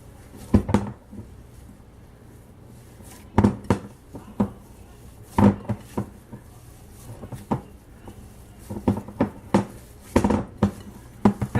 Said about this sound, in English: I would suggest mixing this by hand because obviously, one, I had a bowl that was too small